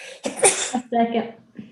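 A person sneezes once, sharp and close, at a public board meeting on dwelling standards, and a brief spoken word follows.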